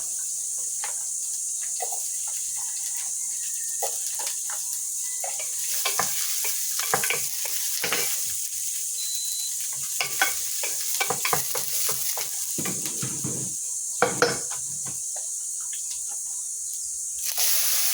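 Garlic and onion sauté in a pan, a bright, steady sizzle up close punctuated by repeated scraping and clattering stirs, with a couple of sharp knocks near the end and no speech.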